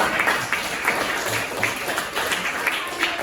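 Schoolchildren and their teacher in an Indonesian classroom break into applause, a busy mix of many small hands clapping at close range, with some murmuring voices under it.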